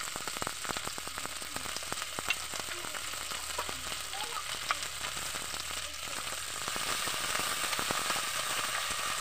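Boiled beef skin and feet stirred in a sizzling pan, a steady fry hiss broken by frequent clicks and scrapes of the utensil against the metal.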